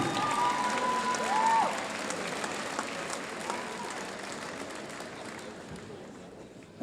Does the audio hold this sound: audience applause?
yes